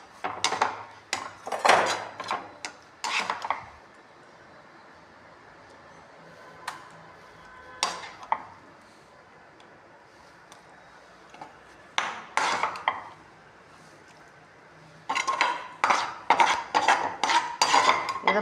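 Metal utensils and dishes clatter as arai keerai (amaranth greens) kootu made with roasted moong dal is moved into a bowl in a home kitchen. Several irregular bursts of clinks and scrapes are separated by quiet pauses.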